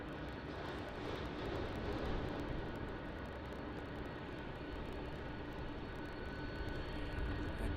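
A four-engine jet airliner at Melbourne Airport produces a steady, broad distant roar with a faint whine, unchanging in loudness throughout and free of voices.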